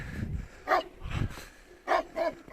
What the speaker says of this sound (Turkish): köpekler saldırıyor burada